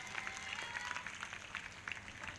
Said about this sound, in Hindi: ताली बजाकर महिमा दे परमेश्वर को।